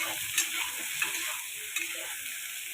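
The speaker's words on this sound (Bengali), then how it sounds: "শালগম আর আলুটা আমি ভেজে নামাবো হালকা" Turnip and potato pieces with turmeric and salt fry lightly in a pan, a steady close hiss of oil with a few soft stirring knocks at intervals.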